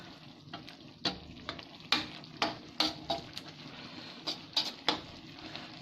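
Coconut milk goes into a simmering curry of apple snails, giving a steady sizzle with bursts of stirring and pot clatter at an even, close-up level.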